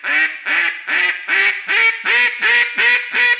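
A handheld duck call blown in eight evenly spaced, steady quacks, each a little higher in pitch than the last, climbing a musical scale, loud and close with no talking.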